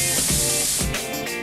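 Hair spray hisses from a can in several close, loud bursts, one after another with short gaps between them. No talking is heard.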